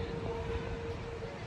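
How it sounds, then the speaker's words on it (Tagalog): Strong wind blowing across the shore at Dolomite Beach on Manila Bay during high tide, a steady broadband rush with faint surf underneath, continuous and fairly loud throughout. "malakas ang hangin"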